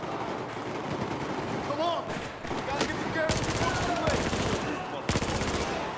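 Battlefield 4 firefight with rapid bursts of automatic gunfire crackling steadily throughout, mid-distance and fairly dense, with voices faintly beneath.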